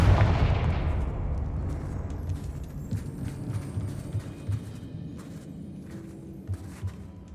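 A Confringo fire spell bursts in Hogwarts Legacy with a heavy, booming blast up close that fades over a few seconds into crackling debris and scattered clatters.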